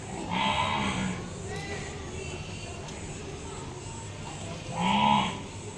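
Two drawn-out calls from a water buffalo at a cattle shed, one near the start and one near the end, over a steady low background hum.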